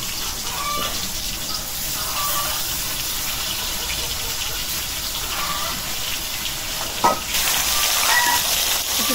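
Eggplant pieces frying in hot oil in a wok give off a continuous, fairly loud sizzle with a bright hiss, interrupted by a knock partway through and then a louder surge of spattering.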